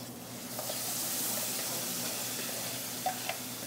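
Blended plain tomato sauce poured into pancetta frying in an aluminum pan, a steady close hiss of sizzling with a few small pops and clinks, no talk.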